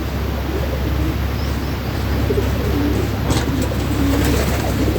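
Pigeons cooing inside a pigeon house where they nest with eggs and chicks, soft repeated low coos continuing steadily under a constant loud background hum, no speech.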